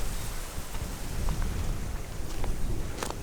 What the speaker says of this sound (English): a stormy one today, quite windy